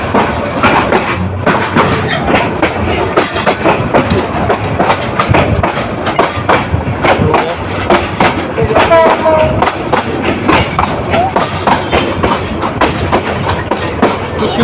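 Train rolling into platform 2 at Kishoreganj railway station, a steady loud rumble with dense rhythmic clatter and thumps of wheels over rail joints, a brief whistle-like tone partway through.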